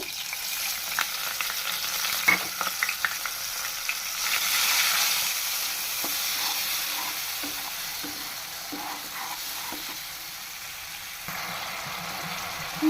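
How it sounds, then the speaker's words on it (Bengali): A spice paste of dried chili powder, turmeric, salt and a little water sizzles in a pan for a potato curry, with a steady soft hiss and occasional light stirring scrapes. "হলুদ গুঁড়া আর দিব পরিমাণ মতো লবণ দিয়ে খুব সামান্য একটু জল দিয়ে মশলাটা একটু কষিয়ে নিব"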